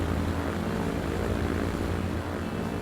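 A 1920s-era propeller plane in Transport Fever throttles up for takeoff, its engine and airscrew droning in a loud, steady, broadband roar throughout.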